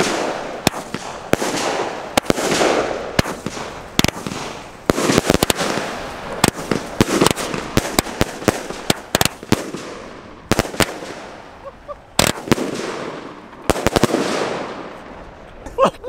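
Firecrackers set in soil outdoors are lit and explode in an irregular rapid string of sharp, loud cracks and pops over about sixteen seconds. Faint voices can be heard in the background.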